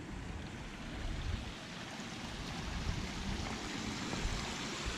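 Water spilling over a small dam on a stream forms a little waterfall, a steady broadband rush that stays close and continuous, slightly swelling, with no voices.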